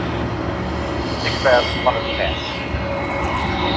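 An Air New Zealand airliner taxis at Sydney Airport, its engines giving a steady, fairly loud hum with a few brief higher tones, while a voice talks over it.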